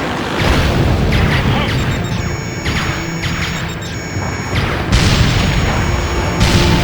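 Enemy targets blowing up in the PSP game Ace Combat: Joint Assault: a loud, steady run of heavy booms and crashes over roughly seven seconds, with a dense rumbling wash between them and fresh bursts near the end.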